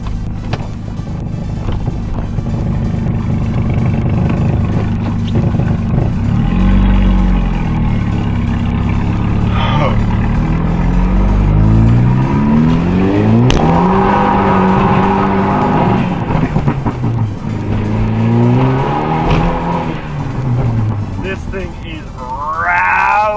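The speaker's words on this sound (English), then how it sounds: "I think we're hitting fuel cut" An Audi TT accelerates hard along a road, the engine rising in pitch through several gears up to the rev limiter's fuel cut. Loud, close in-cabin engine drone with gear-change dips, and a voice speaks over it.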